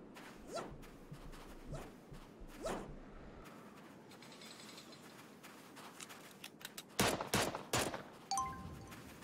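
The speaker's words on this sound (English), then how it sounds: "does he have a Gatling gun?" Rapid gunfire from a Gatling gun in the cartoon-animal battle royale game Super Animal Royale, heard as a few scattered single shots and then a dense, loud close burst near the end.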